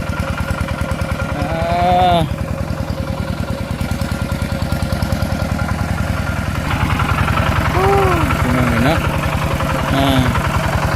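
A motorcycle engine runs steadily throughout at a close, even idle-like throb while hauling wood for a house roof, with voices talking over it.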